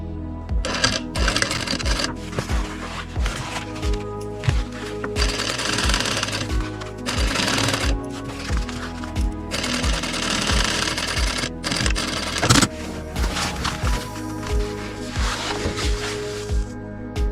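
A sewing machine stitches the lining of a handmade trench coat in loud, steady rapid bursts, with brief pauses and restarts between runs of stitching.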